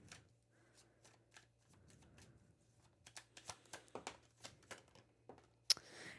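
Tarot cards being shuffled by hand, with soft papery riffles and taps that grow busier and more rhythmic, close and quiet over a low steady hum.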